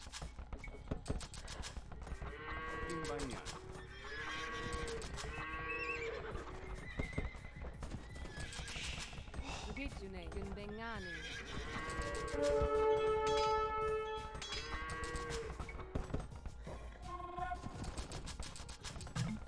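Horses in Age of Empires 2 neigh and whinny again and again over dense in-game sound with hoofbeats, other livestock calls and a steady layered backdrop running throughout.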